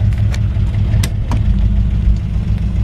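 A 1968 Jeep Kaiser Wagoneer's engine drones low and steady while driving, with a constant rumble and a few faint clicks and rattles above it.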